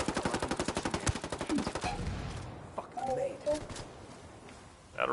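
Rapid automatic gunfire rattles in quick bursts in a shooter video game, then fades as people talk over scattered softer sounds.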